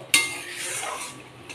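Spices with salt and turmeric being sautéed in a pot for mutton masala curry: a sharp metallic clink of a spoon against the pot, then a soft, low sizzle and faint scraping, close and quiet.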